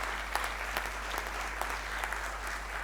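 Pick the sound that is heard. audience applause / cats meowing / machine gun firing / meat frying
audience applause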